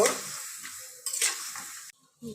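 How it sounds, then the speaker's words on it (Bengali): A spoon stirs fig and potato curry in a hot pan, producing a close, hissing sizzle with scraping that breaks off briefly, then fades to near silence. "সামান্য একটু লবণ অ্যাড করে দিলাম দিয়ে আমি একটু নেড়ে চেড়ে নিব"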